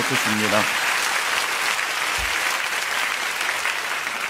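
A church congregation at an autumn special dawn revival service applauds together, a steady, dense clapping that fills the room for the whole stretch, with a brief voice heard near the start.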